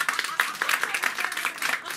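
Audience in a Bulgarian TV show studio clapping for a singer's fans, a dense, steady patter of many hands lasting a couple of seconds with no talk.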